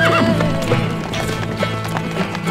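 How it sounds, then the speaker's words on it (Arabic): A horse whinnies loudly, then hooves clop rapidly in a galloping rhythm amid game-like background sound, from the strategy game Stronghold Crusader. "الحصان سريع."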